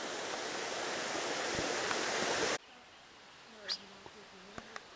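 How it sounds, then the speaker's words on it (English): A rain-swollen mountain stream rushes loudly and continuously for a couple of seconds before cutting off abruptly, leaving a quiet background with a few faint clicks and light sounds. "The regular rains that we've had have swollen the streams."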